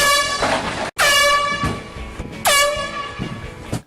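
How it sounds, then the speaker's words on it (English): An air horn used in a prank gives two long, blaring, very loud blasts close by, separated by a short gap, with the second blast trailing off before a brief cutoff. "I got mad with the old air horn prank"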